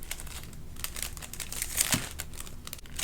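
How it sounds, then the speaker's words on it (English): Plastic cellophane bag crinkling steadily as a small handmade notepad is slipped inside, close and fairly soft, a continuous rustle with one sharper crackle near the end. "now I can take my sweet little book and place it in my plastic cellophane bag"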